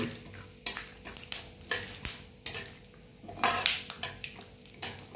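Chopped onion, vegetables and peanuts are stirred in a pan for spicy vermicelli, producing soft, intermittent scraping strokes and faint sizzling, quiet and near, with no voices.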